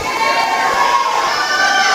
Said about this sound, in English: Got a lot of teammates cheering her on.